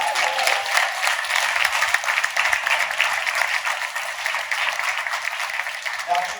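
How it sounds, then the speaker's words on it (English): A crowd applauds at a Washington State Democrats community celebration, with steady, dense clapping throughout, sounding moderately close and loud. "So let's give everybody a round of applause."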